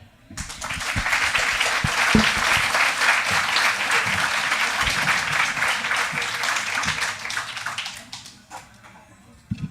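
Sustained applause from an audience at a panel discussion, steady and full for several seconds before tapering off to a few lingering claps.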